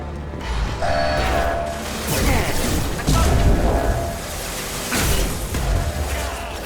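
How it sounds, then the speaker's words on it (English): A metal shutter grinds shut in Mass Effect 2, heavy mechanical creaking and clanking in several loud surges, with thuds and game background noise, ending as the shutter locks. "Shutter secured."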